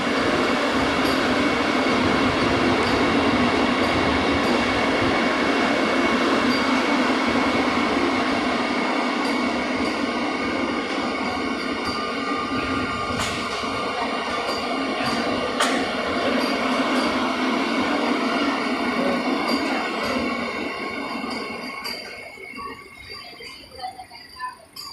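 A Vande Bharat Express train sits stopped on the main line near Kuppam station, giving off a loud, steady mechanical rumble and air-conditioning hum. The sound continues unbroken for a long stretch, then eases toward the end, with no one speaking.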